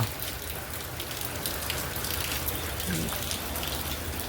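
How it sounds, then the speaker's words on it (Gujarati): Continuous rain pours down on a hard surface in Unjha, Gujarat, a steady dense patter that never lets up, with faint voices murmuring beneath it. "આજ તો કન્ટિન્યુ હવાનો ચાલુ વરસાદ"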